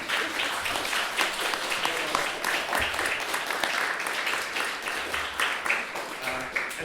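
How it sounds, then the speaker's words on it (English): An audience at an evening talk on artist refugees from Nazi Germany breaks into sustained applause, a dense even wash of many hands clapping throughout without letting up. "maybe give a round of applause for"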